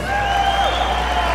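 Crowd applause rising for a bull at a cattle competition, steady dense clapping and cheering over a sustained tone, loud and continuous throughout.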